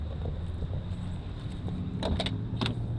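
A car engine idles with a low, steady rumble, and a few light clicks and knocks sound nearby.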